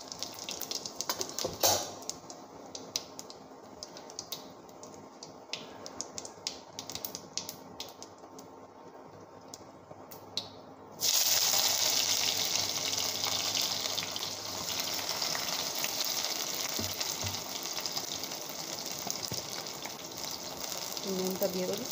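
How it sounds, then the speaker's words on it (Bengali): Cumin seeds hit hot oil for tempering a fish dish: after sparse clicks and taps, an abrupt loud, steady hissing sizzle begins and continues evenly, close to the listener. "ফোড়নে একটু জিরে দিয়ে দিই।"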